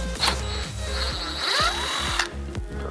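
A power tool whirs in short bursts with a rising whine while taking out a 7mm bolt on a 2020-2024 Chevrolet Corvette C8 during front splitter installation, close and clear with small handling knocks between pulses.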